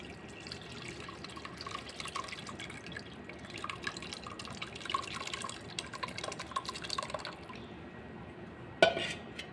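Whey drips and trickles from freshly made chhena through a fine muslin cloth into a pot below, a quiet, steady patter of drops ending with a brief knock.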